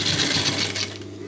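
A sewing machine stitches a seam on blouse fabric, running steadily and fairly close with a fast, even whir throughout.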